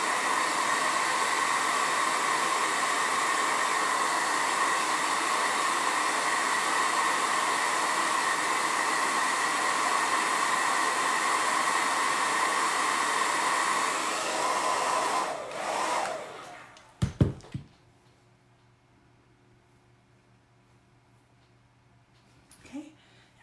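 A hair dryer blows steadily and loudly at close range over a painted cardboard birdhouse for about fifteen seconds, then cuts off, followed by a couple of handling knocks and near silence.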